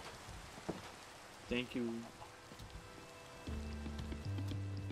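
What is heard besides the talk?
rain in the video game Minecraft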